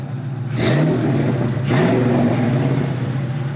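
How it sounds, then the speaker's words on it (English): A 1980 Trans Am restomod with a modern 5.7 liter engine and dual exhaust, idling with a deep steady rumble and then revving twice in quick rises and falls, loud and close on a chilly morning. "Good sounding dual exhaust"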